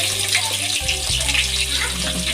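Sliced onions fry in hot oil for egg biryani, giving a steady, close sizzling hiss over a low background hum that continues throughout without pause.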